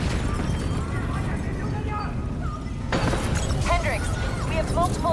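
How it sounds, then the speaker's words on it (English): Explosions rumble across a facility in Call of Duty: Black Ops 3 as a dense, loud, continuous roar with crackling debris, and a sharp new burst partway through adds fresh blasts and whistling effects. "we have multiple explosions across the facility"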